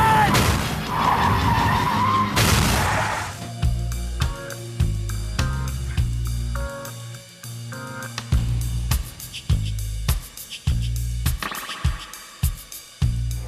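A car brakes hard and skids in a film trailer, a loud tire screech opening the clip, then gives way to pounding trailer music with heavy rhythmic hits.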